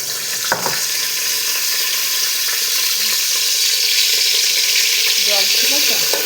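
Bay leaf, cardamom, cinnamon and garam masala sizzle in hot oil, a dense, steady frying crackle close up with a few stirring clinks near the start.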